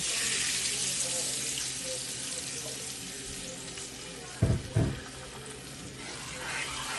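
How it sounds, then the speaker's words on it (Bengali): Water pouring into a pan for mustard hilsa curry, a steady running splash with a broad hiss throughout and two brief heavier gushes midway, close and fairly quiet with no voices. "এবার এতে আমি সামান্য পরিমাণ জল অ্যাড করব"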